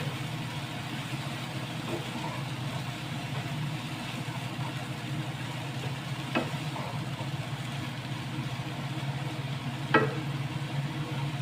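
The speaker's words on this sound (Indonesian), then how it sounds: "bagian bawang ada yang nggak kena panas, jadi ini kita aduk" Chopped onions sizzle steadily in a hot pan during a stir-fry, with a couple of brief scraping knocks from stirring around the third and tenth seconds; a close, even frying hiss throughout.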